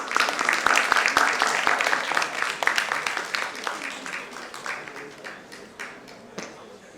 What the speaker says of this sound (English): Let's give a huge round of applause for them, please.